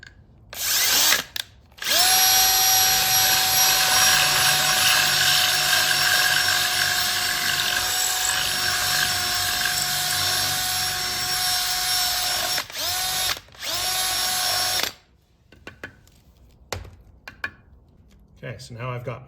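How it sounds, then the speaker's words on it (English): A power drill bores holes in an IKEA PAX wardrobe door, whirring steadily and loudly for about thirteen seconds, then stopping and giving a few short bursts before quieter handling sounds. "now I've got my 2 holes drilled big enough that the IKEA bolts can be used to attach it to the door"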